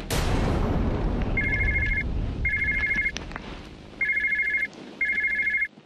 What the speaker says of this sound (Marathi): फोन घे ना, भक्तीस काय त्याच्याकडे.